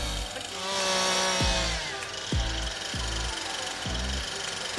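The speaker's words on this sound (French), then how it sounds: "Une tronçonneuse." A firefighters' rescue chainsaw engine runs loudly and steadily, with repeated sharp revving bursts roughly every second, close up and with no voices.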